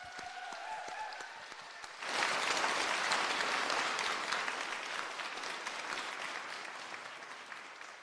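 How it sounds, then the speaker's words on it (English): Audience applause at the Dyslexia Awards 2022 ceremony, starting after a short pause and continuing as dense, steady clapping from a large crowd for several seconds. "a big round of applause for Ellie on the work she does"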